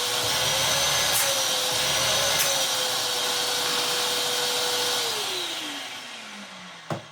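Vax Multivax 6131T 1300-watt carpet shampooer vacuum switched on, a loud continuous motor roar with a steady whine that drops in pitch as it spins down at the end, ending in a click.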